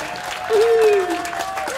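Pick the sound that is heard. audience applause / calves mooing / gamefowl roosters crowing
audience applause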